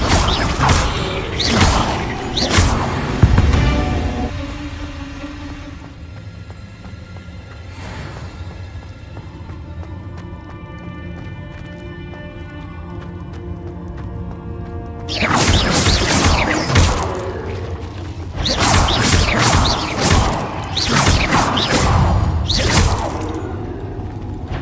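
Confringo fire-blast spell explosions in the Hogwarts Legacy video game, bursts of crashing, shattering impacts clustered at the start and again in dense volleys later, separated by a quieter stretch of low ambient hum.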